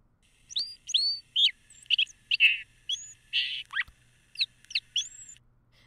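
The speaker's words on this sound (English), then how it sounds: "we'll listen to both the young bird learning its song" A young song sparrow practicing its song, a loose, faltering series of varied chirps, whistles and buzzy notes with uneven gaps, clear and fairly close against a quiet background hum.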